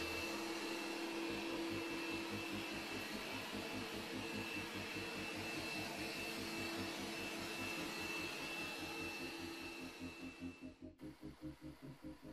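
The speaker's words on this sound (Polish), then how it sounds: "Siła ssania robota jest duża i wynosi 3200 paskali." The Smart AI S7 Max robot vacuum cleaner runs with 3200 Pa suction, giving a quiet but steady whirring drone with a faint tonal whine. Near the end the sound begins to pulse rhythmically as the motor note shifts.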